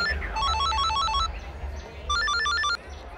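A telephone rings with a bright electronic trilling tone in two bursts separated by a pause, over a low background rumble.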